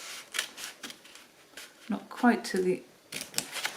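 Scissors run across paper while assembling a lap book, giving brief crisp cutting snips under steady close-up talk from a single speaker.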